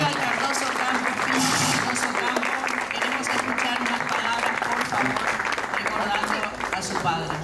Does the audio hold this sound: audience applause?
yes